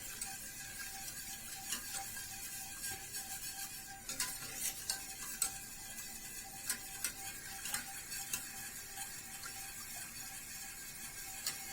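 A spoon scrapes and taps steadily in a pot of halwa made with coffee and chocolate, a faint, irregular stream of small clicks and soft scraping over a light background hiss, with no voices.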